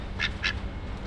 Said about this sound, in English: There's a little duck and he has water right there too.